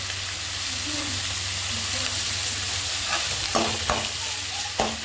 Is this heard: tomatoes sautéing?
yes